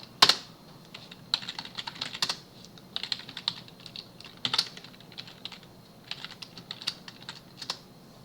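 Someone types a username and password on a computer keyboard at a terminal, with quick irregular bursts of close key clicks and a few heavier keystrokes, alone over a quiet room.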